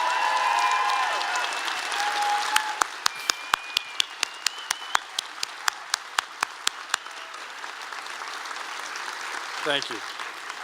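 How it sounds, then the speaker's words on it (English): A commencement audience for a medical school graduation applauds the faculty, a dense wash of clapping and cheers that gives way to separate sharp claps, then thins out as a voice briefly speaks near the end. "could we just applaud the faculty?"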